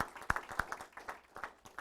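Scattered clapping from a small audience at a talk, a few sharp claps standing out over a thin, uneven patter that stays fairly quiet.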